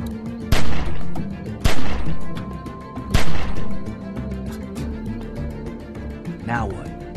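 Gunfire in The Walking Dead 400 Days game: three loud, sharp shots spaced about a second apart ring out over a dense bed of game sound and music, with a person talking throughout.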